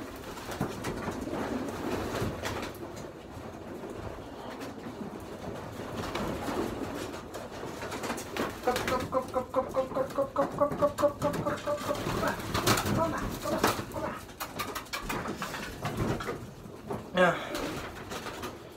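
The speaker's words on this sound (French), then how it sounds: "Des pigeons vraiment vraiment solides" Pigeons coo in a series of soft repeated calls, mostly in the middle of the stretch, under near continuous talk from people.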